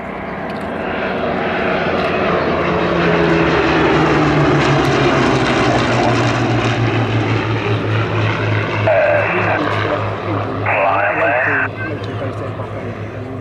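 A propeller aircraft flies a display at Sywell airshow, its engine drone rising and holding loud with a steady low hum and a passing pitch shift, while a voice talks over it.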